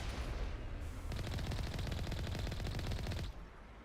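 Sustained rapid automatic fire in Mass Effect 1 shooting down Geth, a fast even rattle of shots lasting about two seconds before stopping, heard over low background game noise.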